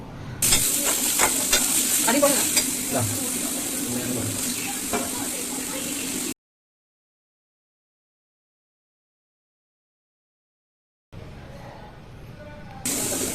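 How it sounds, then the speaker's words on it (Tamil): Chopped onion, green chili and a few cashews sauté in a pan, a steady close sizzle with light stirring clicks, broken by a stretch of silence before the frying resumes. "நறுக்கி வச்ச வெங்காயம், பச்சை மிளகாய், அப்புறம் முந்திரி ஒரு 4-5 முந்திரி அதை போட்டு நல்லா வதக்கிடுங்க"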